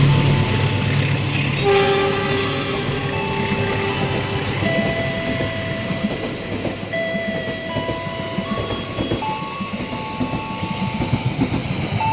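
A passenger train from Bandung to Surabaya Pasar Turi rumbles steadily past with clattering wheels and squealing tones, its horn sounding in long, sustained blasts throughout; no voices.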